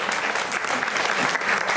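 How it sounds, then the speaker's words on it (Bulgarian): An evening concert audience claps in a short, full burst of applause, many hands overlapping into a dense, even roar. "Още веднъж аплодисменти"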